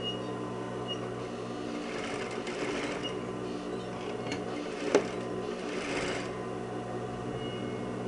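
A sewing machine stitches fabric for a blouse, running as a quiet steady mechanical whir with soft rhythmic needle chatter and one brief sharp click midway, heard alone at low level.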